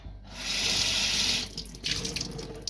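Hot water runs steadily from a tap into a sink for about a second, then breaks into uneven splashing and clattering as the stream hits dishes being washed.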